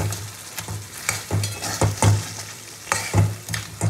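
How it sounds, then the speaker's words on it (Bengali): Koi fish fried with spices in a pan, stirred with repeated scraping strokes and clinks over a constant sizzle, close and clear, with no talking. "ভালো করে নেড়ে চেড়ে মশলা দিয়ে মাছ দিয়ে কষিয়ে নেবো"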